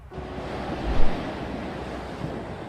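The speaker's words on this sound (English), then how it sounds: "You can hear the crash of the waves." Ocean waves on the Mississippi Gulf Coast roll in steadily with a broad hissing wash, mixed with wind rumble on the microphone and one heavier crash near the start.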